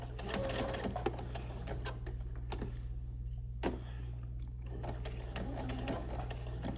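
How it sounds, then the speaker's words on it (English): A sewing machine stitches a seam on a Simplicity 9926 pattern with a close, rapid mechanical whir in runs, easing into a brief lull midway before stitching resumes, over a low steady hum. "go ahead and finish sewing all the way up to that dot"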